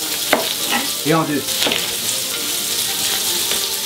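Bacon frying in a dry pan without oil, a continuous crackling sizzle with a few stirring scrapes, close by, while a voice speaks briefly over it.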